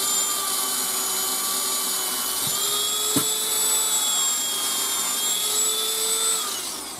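A Dremel rotary tool smoothing a part of a Winchester 12 gauge Model 140 Ranger 1400 shotgun, a high steady whine with slight pitch shifts and a couple of brief contact clicks, close and continuous before tapering at the end.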